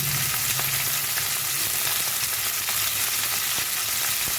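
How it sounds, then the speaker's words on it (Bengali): Taro stems (kochur loti) fry in hot oil with a steady, dense sizzle and crackle that stays loud and continuous, joined now and then by faint clinks of stirring. "এবার কচুরলতিগুলো হালকা করে একটু ভেজে নেব।"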